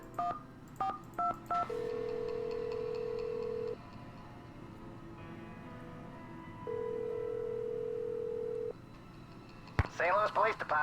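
In a Nancy Drew video game, a telephone number is dialed as a quick run of touch-tone beeps. Two long ringback tones follow with pauses between them, and then a voice begins to speak over the line.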